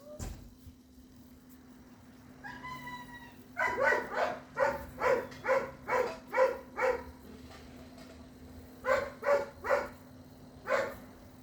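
A dog barks in a steady run of about ten sharp barks, then a few more after a pause, fairly close over a low background hum.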